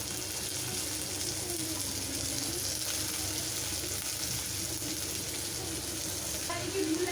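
Green beans fry for chow mein in a hot pan with chopped onion, grated ginger and garlic, giving a steady, close sizzle with faint stirring scrapes throughout.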